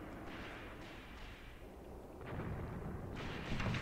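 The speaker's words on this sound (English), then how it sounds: "they're under artillery fire, under tank fire." Artillery fire in the wargame Graviteam Tactics rolls in as a dense, muffled rumble of distant blasts and booms, swelling louder toward the end.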